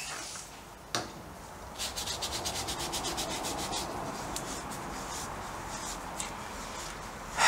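Gloved hands rub oil into a K&N-style air filter for a BSA B50T motorcycle, a close, steady run of soft rubbing and scrubbing strokes with a sharper knock near the start.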